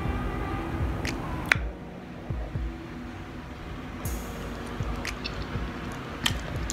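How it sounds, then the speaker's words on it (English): Close, wet chewing of food with soft squishy bites and crunches recurring irregularly, moderately faint, with no talk. "You guys can hear my chewing."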